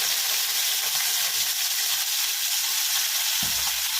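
Fennel seeds fry in coconut oil in a pan, giving a continuous bright sizzle and hiss that runs steadily, with a low stirring or clunk near the end.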